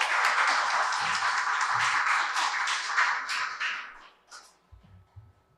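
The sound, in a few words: audience applause welcoming a guest to the table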